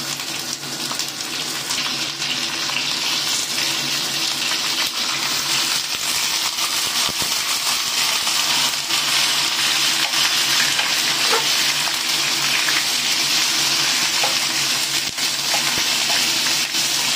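Pork ribs hit a hot pan with garlic and fry, giving a loud, steady sizzle and hiss that holds without a break throughout.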